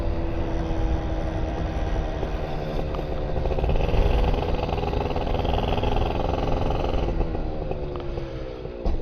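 Motorbike with a brand new motor riding along at low speed while warming up, a continuous close engine drone with wind rush, rising slightly in pitch as it picks up speed.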